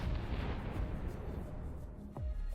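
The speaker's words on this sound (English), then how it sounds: "Oh, there we go. Now we got the explosion." A low, rumbling explosion in the space strategy game Distant Worlds 2 rolls through a dull background of game noise, with a sharper thump near the end.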